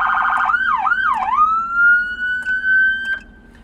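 An electronic emergency vehicle siren sweeps through several tones: rapid warbling phaser pulses, a pair of swooping yelps, then a long rising wail that holds and fades.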